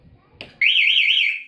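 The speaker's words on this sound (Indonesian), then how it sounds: "Jadi ketika alarm aktif, ini kena getaran bunyi." An alarm fitted to a Motobi Pesaro 200 Evo motorcycle sounds after a brief knock, a single continuous warbling electronic tone, loud and close, holding steady to the end.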